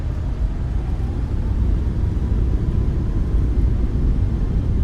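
Boeing 737 MAX thrust reversers roaring during landing rollout in Seattle, heard from inside as a steady, heavy low rumble that fills the whole clip without a break.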